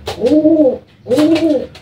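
Two loud, close coos from racing pigeons molting at the neck, each a rolling, throaty call about three-quarters of a second long, separated by a short pause.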